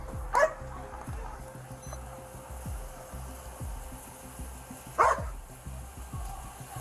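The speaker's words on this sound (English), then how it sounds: "Come on, my dog's gonna come out." A police dog barks from inside a patrol car during a traffic stop, giving two sharp, loud barks several seconds apart over a low steady engine hum.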